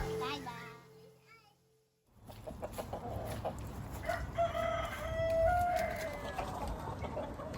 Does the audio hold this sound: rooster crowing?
yes